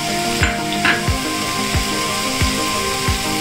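Pieces of ivy gourd and large tomatoes frying in hot oil, a steady close sizzle with rhythmic scraping strokes of a spatula against the pan about every half second.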